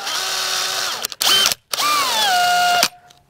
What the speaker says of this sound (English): We're just drilling a small pilot hole just to get through the aluminum.